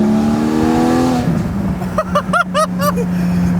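A Porsche Spyder engine idles, then several quick sharp automatic rev-matching blips of the exhaust follow in succession, loud and close.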